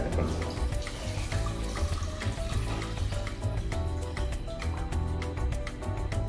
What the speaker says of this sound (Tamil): ஸோ அந்த தண்ணியை நாங்கள் இதோட ஆட் பண்ணுறோம்.